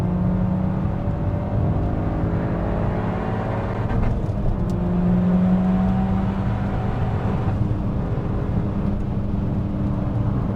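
Peugeot 308 GTi driven flat out around Anglesey Circuit, a steady loud engine drone heard from inside the car with shifting whine tones as revs rise and fall, no voices over it.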